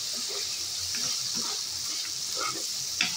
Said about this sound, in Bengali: অবশ্যই এখানে 3-4 মিনিট ধরে মশলাটাকে ঢেকে দিয়ে ভালোভাবে কষিয়ে নিতে হবে